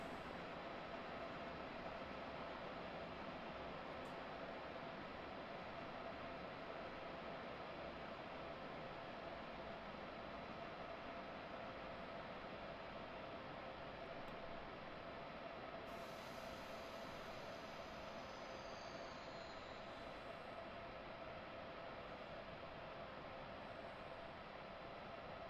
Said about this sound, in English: Okay, we need to get this train stopped.